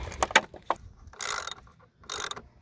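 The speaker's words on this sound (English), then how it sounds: "I go ahead and put the bolt inside of the ratchet." A hand ratchet turns a bolt while a trailer tongue jack is installed, giving several short bursts of close clicking separated by pauses.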